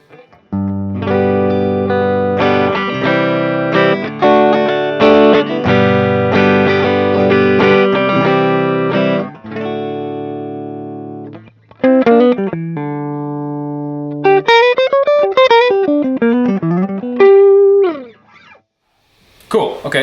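A Les Paul electric guitar on its DiMarzio Air Classic neck pickup, played through a Dr. Z Maz 38 amp: loud sustained strummed chords, then choppy stabs and a run of single-note lines, ending on a short pause.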